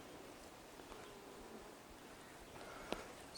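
Honeybees buzzing around a small nuc hive outdoors, a soft continuous hum with faint rustling and a brief louder pass near the end, no voices.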